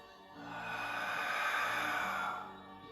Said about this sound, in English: So breathing in through the nose and then expelling through the mouth.